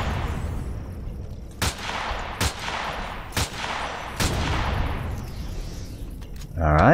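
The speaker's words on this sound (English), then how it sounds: "Oops, terrible shooting." Four sharp, loud gunshots in the Empyrion video game, spaced about a second apart over a low droning background, followed by a rising electronic tone at the end.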